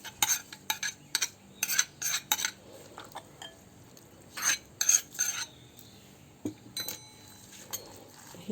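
A spoon mixing curd rice with cooled tempering in a bowl, sharp clinks and scrapes against the dish coming in irregular bursts with quiet gaps between, close and with no talk.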